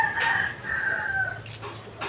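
A hen that has stopped eating gives short, close clucks and a drawn-out call, loud and with no talk over it, above a low steady background rumble.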